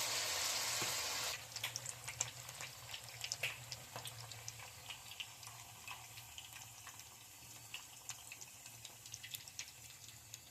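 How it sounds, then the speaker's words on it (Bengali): Pitha made from flattened rice (chira) and semolina fries in hot oil, a faint steady sizzle with scattered small pops after a brief louder hiss at the start. "এইগুলো নেড়ে চেড়ে ভালো করে ভেজে নেব"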